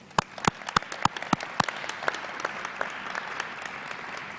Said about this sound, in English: So let's take a moment to clap for ourselves.